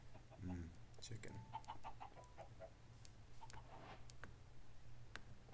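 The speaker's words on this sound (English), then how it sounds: "Chicken." A Minecraft chicken gives a few faint clucks early on, followed by scattered quiet ticks and clicks from the game, all at low volume.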